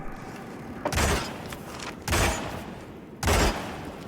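Gunfire in the Hitman video game, three loud bursts of shots about a second apart, each a heavy boom with a short tail over steady background ambience.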